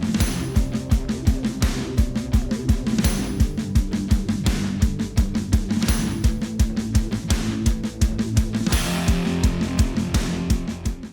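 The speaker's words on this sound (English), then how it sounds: "just listen to how much clearer my kick drum sounds here, once I start boosting the high end." A kick drum with its high end boosted by EQ sits in a dense, busy mix, pounding a steady fast four-on-the-floor beat with clicky attacks, loud and continuous alongside other instruments, with no voices.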